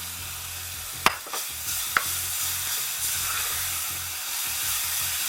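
Coconut being stirred into melted jaggery in a hot pan, a steady sizzling hiss broken by a couple of sharp spoon clinks against the vessel, close and alone without speech.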